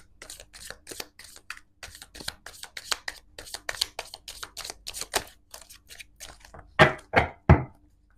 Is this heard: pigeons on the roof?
no